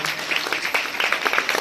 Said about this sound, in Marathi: त्यांच्यासाठी टाळ्या वाजवा एकदा.